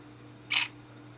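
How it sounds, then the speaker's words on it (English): Camera shutter of an HTC HD2 phone taking a photo: a single quick, crisp click, brief and fairly close, alone over a quiet background. "You can click on here to go ahead and take a photo."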